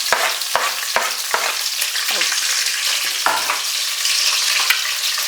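Green chillies sizzling and frying in hot oil for a bommidayalu fish curry, a steady loud crackle with a few sharp clacks of a ladle against the pan at the start and a stir midway.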